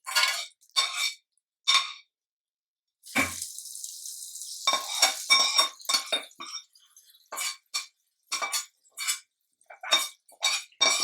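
Spices for coconut chutney tempering sizzle in hot oil, with sharp crackling bursts and clinks of stirring in the pan, loud and close, coming in separate spurts with brief silent gaps.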